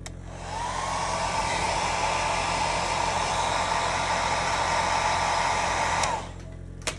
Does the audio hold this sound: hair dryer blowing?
yes